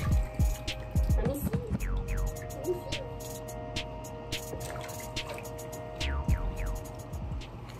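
Water trickles and drips while a sphynx cat is rinsed during a bath, with close splashing, squishy handling sounds and scattered drops over a constant low background hum.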